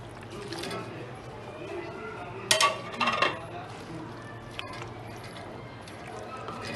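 Raw marinated mutton goes into a biryani pot, giving a short clattering, squelching burst of metal and meat amid quiet kitchen background, with a voice talking.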